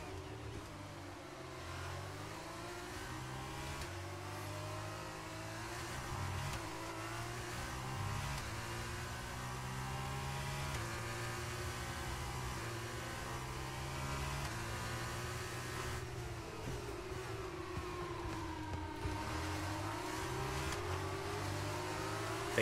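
A Formula 1 car engine roars in a racing video game, a continuous high-pitched whine rising and falling through gear changes and revving, loud and steady with no talking.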